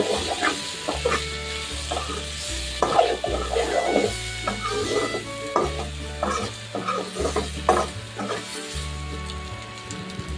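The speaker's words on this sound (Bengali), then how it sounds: "এরপর আদা রসুনের কাঁচা গন্ধ না যাওয়া পর্যন্ত আর একটু ভেজে নেব" Potatoes frying with ginger-garlic paste in a pan while being stirred, giving a close sizzle with irregular scraping strokes over a steady low background hum; no one speaks.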